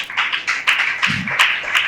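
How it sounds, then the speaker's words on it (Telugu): A church congregation at a Telugu sermon claps hard in a quick, even rhythm, with sharp repeated claps for about two seconds and no talking. "చప్పట్లు కొట్టండి గట్టిగా"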